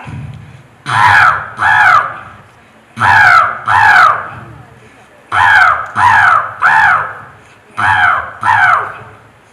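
A voice at a Kerala State School Arts Festival mimicry performance imitates a crow cawing on a tree branch, four pairs of loud, harsh caws in a steady rhythm, close and clear with no other sounds.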